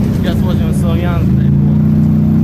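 A car drives along a road with a loud, steady low engine rumble close by, while people talk inside over it.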